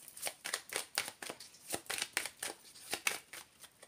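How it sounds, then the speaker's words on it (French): Oracle cards being laid out and handled during a tarot-style reading, giving a quiet, steady run of soft close-up flicks and slaps of card on card, roughly three or four per second. "Je vais recouvrir les deux autres avec mon oracle de Béline."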